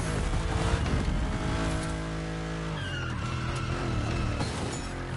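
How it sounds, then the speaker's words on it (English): A Mercedes-Benz in The Crew Motorfest slides through a smooth drift in an all-wheel-drive car, engine roaring steadily with tire noise and shifting engine pitch, loud and continuous with no talking. "Oh, that drift was so smooth."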